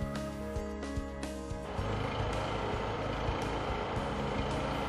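A portable generator's small engine catches after a pull start, settling into a steady, loud running drone that fills the clip after a few irregular knocks, with no talk over it.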